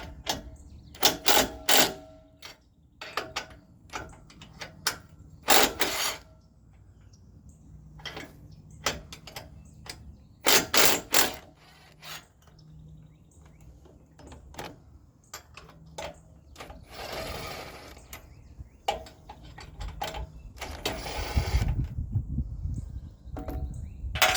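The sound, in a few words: undoing a boat trailer jack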